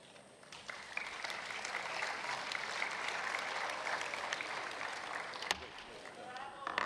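A conference hall at the 145th IPU Assembly in Kigali breaks into sustained applause that swells quickly, holds at an even level for several seconds, then tapers off near the end.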